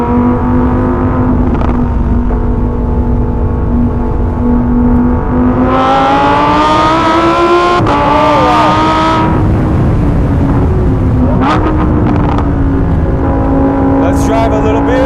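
Lamborghini Huracan EVO RWD Spyder engine in Corsa mode, a loud close roar climbing through revs with a gear change mid-pull, then easing and surging again on an open road.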